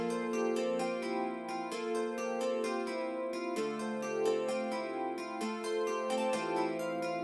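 A plucky nylon electric piano synth preset from a Roland JV-1080 plays a flowing melody over sustained chords, clear and unaccompanied.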